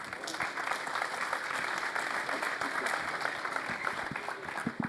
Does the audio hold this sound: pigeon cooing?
no